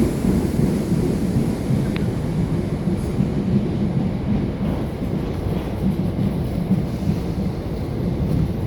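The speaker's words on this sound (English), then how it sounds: "It's a class 455 in the approach to whatever station it goes." A British Rail class 455 electric train approaches a station at Mitcham Eastfields, a steady low rumble of wheels and motors holding level throughout, close and continuous.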